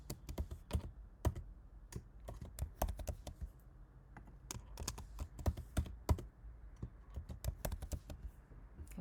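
A password being typed on a computer keyboard: rapid, uneven bursts of close, crisp key clicks with short pauses, no voices.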